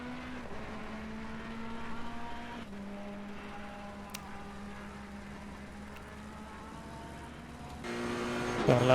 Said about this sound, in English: I think most guys would rather listen to the cars